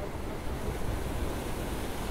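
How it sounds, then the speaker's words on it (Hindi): Rough monsoon sea surging onto a Goa beach, a loud, continuous roar of breaking surf mixed with wind buffeting the microphone, steady and dense throughout with no voices. "देखिए ज़बरदस्त समंदर देखिए कितने उफान पे है"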